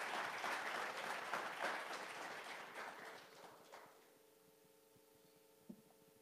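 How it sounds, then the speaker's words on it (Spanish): Church congregation applauding, a dense wash of clapping that holds for about four seconds and then fades out, leaving a faint hum and a single soft knock. "Denle un aplauso al Señor"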